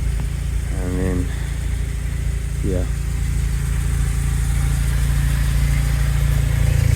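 A Smart fortwo 450 Brabus engine idles steadily and close by after an oil sump replacement, a constant low mechanical hum with brief higher tones near the start, with someone talking over it.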